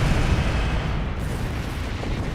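Ship cannon fire in Star Trek Online, a dense, loud, sustained roaring rumble of blasts that fills the whole moment without pause, no talking.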